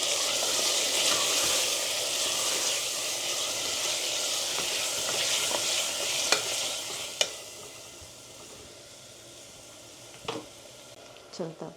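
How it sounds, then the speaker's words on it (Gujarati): Tomatoes fry in hot oil with asafoetida for matar paneer, a loud continuous sizzle and stirring that gradually fades, punctuated by a few sharp spoon taps against the pan. "ટમાટર ત્યાં કૂક થાય છે"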